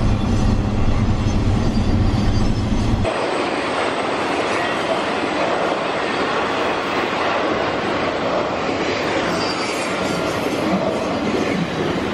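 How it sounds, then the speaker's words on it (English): An old train passes close by in a small town. A loud, steady rumbling roar with rail clatter carries through the whole stretch, and its tone shifts noticeably a few seconds in. "I love an old train."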